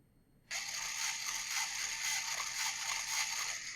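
Two small electric motors switch on after a brief quiet moment and keep running with a steady, bright whirring hum that holds even to the end, close by and alone.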